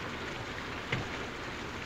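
Steady rain falls without a break in a 1932 drama, a soft continuous wash of drops with one slight brief swell partway through and no voices.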